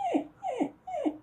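A dog whimpers three times in quick succession, each a short high descending whine, close and clear with no talk.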